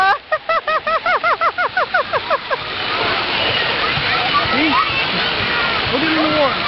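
A toddler plays in water at a birthday outing, loud splashing and rushing water running continuously after a few seconds of repeated bright vocal-like calls.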